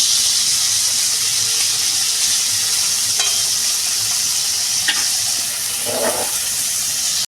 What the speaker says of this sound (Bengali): চিংড়ি মাছটা বেশ সুন্দর লাল করে ভেজে নেবো বন্ধুরা